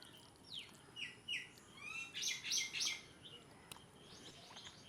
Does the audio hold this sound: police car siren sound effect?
no